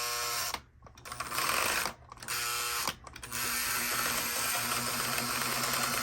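A Lionel 52 Fire Car toy train's electric motor whirs on the track with a steady mechanical drone. The whir dips in three brief dropouts in the first few seconds, then runs on continuously.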